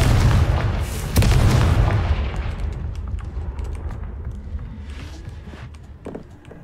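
A Confringo fire spell detonates in Hogwarts Legacy, a heavy booming blast that swells after a sharp crack, then a long rumbling decay with scattered small pops and crackles trailing off.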